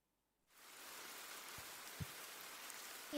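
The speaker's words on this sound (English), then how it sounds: "Can you hear the rhythm of rain dripping?" Steady rain patters evenly after a quiet start, with a few louder drips landing close by.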